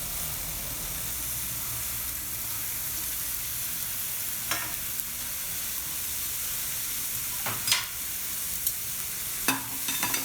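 Boiled vegetables tipped into a pan of fried onions and stirred, giving a steady, low frying hiss with a few soft clunks and scrapes of the spoon near the end.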